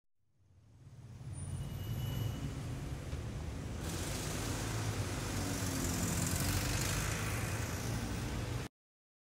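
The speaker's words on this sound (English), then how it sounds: "Now that city traffic audio is pretty loud" City street traffic as a stereo track in a video editor: a loud, steady broadband roar of cars, buses and engines that fades in over the first second, holds, then cuts off abruptly near the end.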